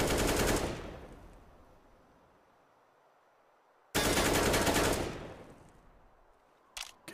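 Rifle gunfire in a Counter-Strike esports match, two loud, sharp bursts a few seconds apart with quick decaying tails, followed by a short faint crackle near the end.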